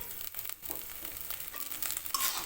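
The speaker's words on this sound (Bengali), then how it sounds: "এভাবে আমি একটু নাড়িয়ে চাড়িয়ে নেব" Ghetkol paste fries in a pan over a medium gas flame while being stirred, giving a faint, steady sizzle with soft scraping and crackling, close by.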